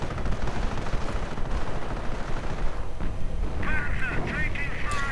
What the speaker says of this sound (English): sector artillery doing a bit of nasty there to the Allies as they are trying to advance